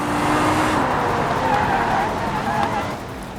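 Car engine held at about half throttle in the BeamNG driving game, a steady loud drone with tire noise that shifts slightly in pitch and eases off near the end.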